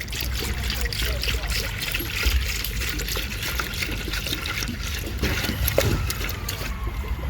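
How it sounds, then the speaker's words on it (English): Water draining from a bleeder screw on a Dodge Chrysler 2.7L engine, a steady close trickle and splash running continuously under faint background noise. "Y'all see all that water coming out?"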